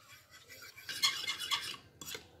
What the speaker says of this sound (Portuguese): Então eu vou já dissolver aqui o amido de milho.